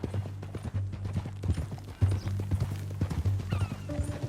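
Horse hooves clip-clop at a steady walking rhythm in Red Dead Redemption 2, fairly close, with a low droning background underneath.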